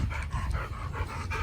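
A dog pants rapidly and steadily outdoors at an 80th birthday gathering, quick rhythmic breaths close to the listener, with no talking.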